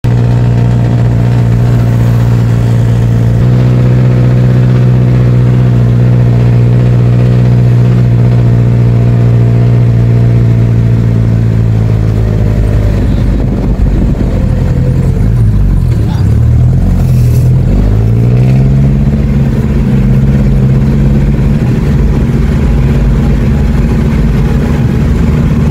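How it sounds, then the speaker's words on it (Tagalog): A hired jeep grinds up a steep, winding road toward Skyranch Tagaytay, its engine droning loudly and steadily before dipping and surging again as it works through a shift under load. "akala ko nga hindi kakayanin ng jeep na na-hire namin"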